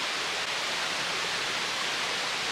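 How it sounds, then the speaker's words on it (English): Filtered water from a portable reverse osmosis system streaming into a glass, a steady, dense hiss of running water at even loudness throughout, close and uninterrupted with no talk. "So there's the water going in the glass."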